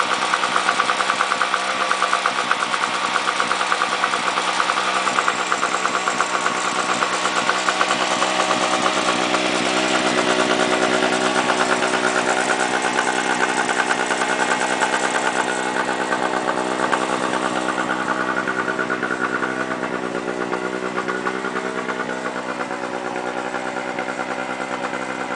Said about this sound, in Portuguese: Gerador aí.